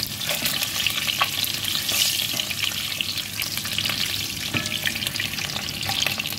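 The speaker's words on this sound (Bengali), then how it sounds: "এখানে আমি ডিম ভাজি করে নেব" Peeled boiled eggs fry in a pan with a little salt, a steady, close, bright sizzle and crackle running unbroken throughout with no voices.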